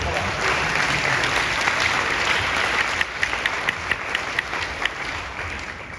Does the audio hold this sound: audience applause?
yes